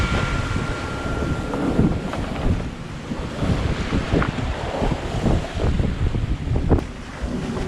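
Strong wind and rushing waves aboard a sailboat reaching across the Gulf Stream at sea, a constant loud roar of wind buffeting the microphone over sloshing water, with no voices.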